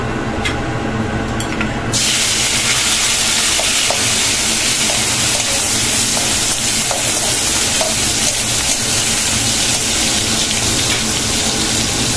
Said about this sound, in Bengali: তেল দিয়ে চিংড়ি মাছটা আগে ভেজে নিই